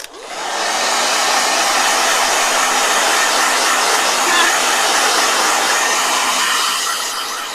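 Blow dryer drying a watercolor painting, a steady loud whooshing roar that starts at once and runs unbroken to the end, with no talking.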